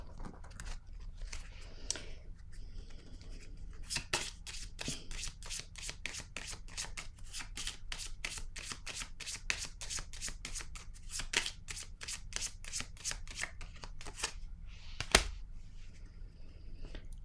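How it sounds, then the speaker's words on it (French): Oracle cards being shuffled by hand, a steady run of quick riffling bursts that continues for most of the stretch, close and clear, with no talking. "Je vais déposer une autre carte sur la famille."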